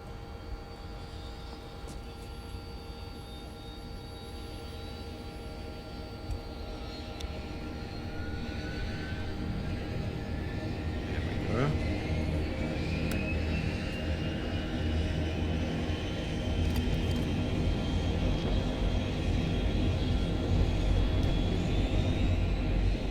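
Engine 4 of a DHC-7 turboprop in Microsoft Flight Simulator 2020 spooling up, a steady engine drone building gradually with a rising turbine whine, close and continuous, no talk.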